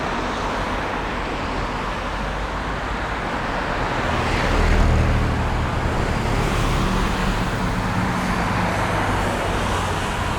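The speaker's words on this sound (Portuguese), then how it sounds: "Muitos carros aqui para passar é complicado." Steady road traffic rumbles past on a busy street, a dense continuous roar of several cars with one louder vehicle swelling close by midway before easing back into the flow.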